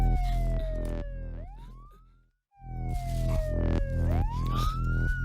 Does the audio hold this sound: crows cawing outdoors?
no